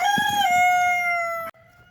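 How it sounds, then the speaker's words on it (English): A rooster crows once nearby, a long drawn-out call that rises, holds and then cuts off abruptly. "The rooster out there is cackling."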